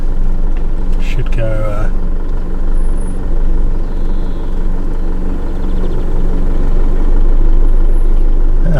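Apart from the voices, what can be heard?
motorhome driving and parking wheels in a hole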